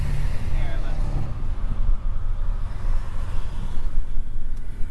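Steady, heavy wind rumble buffets the microphone inside a moving car in Pennsylvania, with low road noise throughout and no clear speech.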